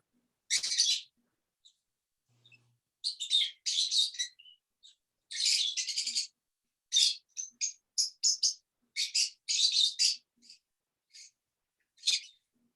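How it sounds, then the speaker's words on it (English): Small birds chirp in quick bursts of high, bright tweets, separated by short silences, close and fairly clear against a quiet background. "Those birds are really good though."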